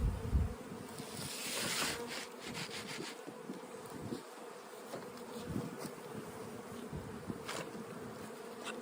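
Honeybees buzzing around a hive entrance as foragers bring in pollen after cold spring weather, a steady droning hum with individual bees flying close past, plus occasional light scraping.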